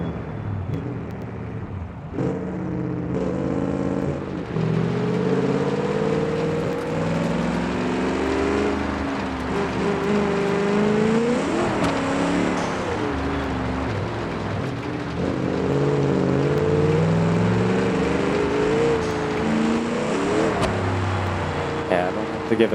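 A 6x6 truck engine in BeamNG revving hard as the turbo boost builds, a steady droning roar rising and falling in pitch across the stretch, with someone talking over it.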